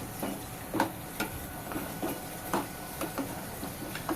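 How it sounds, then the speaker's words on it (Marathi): A spoon stirs a potato, pea and brinjal curry in a pan, with soft scrapes and clicks recurring roughly every half second over a faint simmering hiss, close and quiet. "आणि हे सगळं आपण व्यवस्थित मिक्स करून घेऊया"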